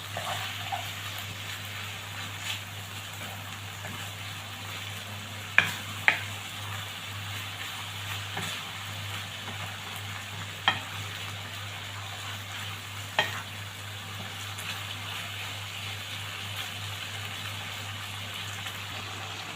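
Chicken fajita mixture with onions and pomegranate molasses is stirred in a hot pan, giving a steady close sizzle with a few sharp utensil clicks and scrapes against the pan and no talking.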